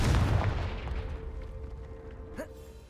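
The fiery Confringo spell explodes in the Hogwarts Legacy video game, a heavy booming blast up front that decays into a low rumble, followed by a brief whooshing tone.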